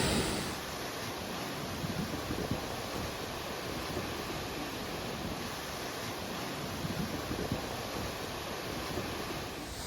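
Steady, dense roar of a rushing waterfall close by in Baños de Agua Santa, a constant broadband wash with no voices, continuing evenly for the whole stretch.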